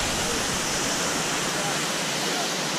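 Ocean water rushes and washes over slippery coastal rocks at Malibu in a loud, steady, hissing roar that fills the whole stretch without a break.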